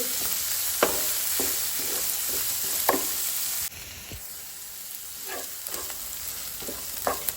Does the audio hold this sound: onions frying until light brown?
yes